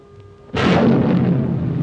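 A test rocket launches with a sudden loud roaring blast that holds steady as a broad, rumbling rush, standing alone with no voices.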